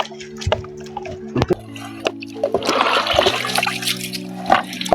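Water poured slowly into a homemade laundry soap mixture while it is stirred in one direction, giving soft splashing and trickling with a few drips, close and moderately loud, over a background hum.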